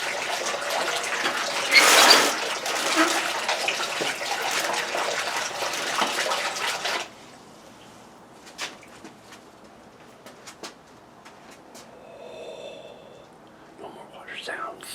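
Water runs steadily for about seven seconds, then abruptly stops, leaving near quiet with faint clicks and a soft bird coo.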